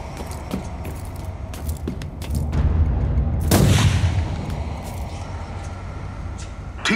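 Gunshots in Warhammer 40,000: Inquisitor - Martyr: a few light crackling shots give way to one heavy, booming blast that fades slowly over a low rumble.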